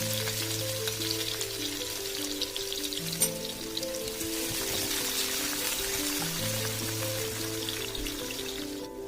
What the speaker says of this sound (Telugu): అలాగే ఆనియన్ ముక్కలు వేసుకొని ఫ్రై చేయండి